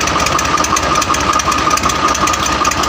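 A Swaraj 735 tractor engine runs in gear with a steady, loud, close diesel chug and a fast regular knocking pulse, heard alone with no talk.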